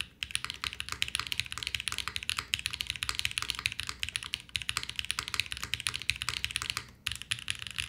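Steady, fast typing on a KBDFan KBD8X mechanical keyboard with a 1.2 millimeter PCB, dense close-up clacks running continuously with a brief pause near the end.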